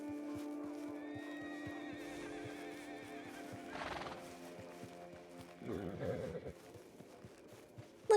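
A horse in the Red Dead game whinnies in a drawn-out neigh, followed by snorts, a short burst of hoofbeats and an occasional clip-clop, fairly quiet and mid-distance, with a voice heard faintly.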